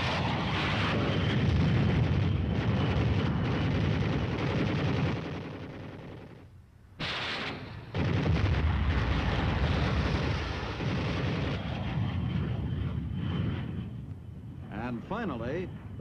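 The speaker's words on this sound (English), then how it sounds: "next flight uses machine guns and rockets" Aircraft strafing with machine guns and firing rockets in 1950s US Army training footage, dense bursts of gunfire and blasts under loud narration, broken by a brief lull before the barrage resumes.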